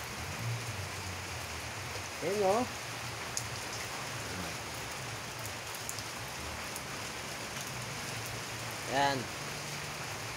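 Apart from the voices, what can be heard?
rain falling in a garden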